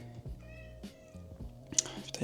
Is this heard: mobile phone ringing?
no